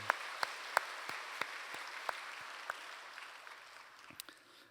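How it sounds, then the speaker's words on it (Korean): Soft, sparse applause from a Korean church congregation during a Sunday worship service, a faint bed of clapping with a few sharper individual claps standing out as it gradually dies away. "우리 하나님께 영광의 박수 한번 올려드릴까요?"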